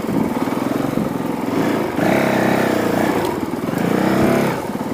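A Honda CRF450L dirt bike engine runs steadily and close, with a throttle that swells and eases in uneven surges while riding over obstacles, and no talk is heard.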